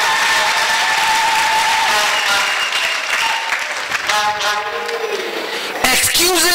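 A church congregation breaks into applause, dense clapping rising at the end after sung or spoken lines over a sustained tone.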